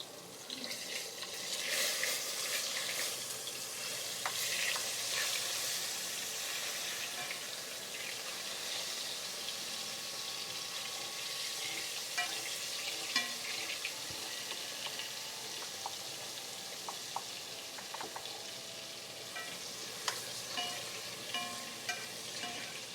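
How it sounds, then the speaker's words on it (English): Food sizzling and crackling steadily in a hot pan during a Friendsgiving cooking session, a dense hiss running throughout with occasional louder pops and scattered clinks. "Sorry, the sizzling should go down a little bit now."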